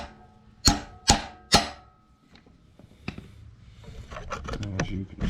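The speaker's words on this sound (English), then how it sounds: "Smack it a couple times with a hammer, mallet, whatever you got. I'm using an adjustable wrench." Three sharp metallic smacks from an adjustable wrench striking a pintle cap on a Nissan 300ZX, evenly spaced and close, then a few lighter knocks and handling noises.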